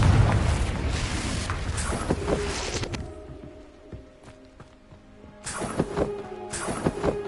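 A Confringo fire spell bursts in a wizard video game as a loud, rumbling blast that fades into quieter clicks and ambience, then a second heavy burst surges up near the end.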